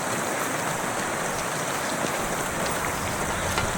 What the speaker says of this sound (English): Too much raining.